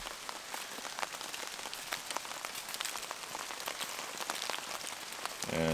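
Heavy rain pours onto a canvas tarp over a log shelter at night, a dense, steady patter of drops with sharper individual taps throughout, ending in a brief louder thump.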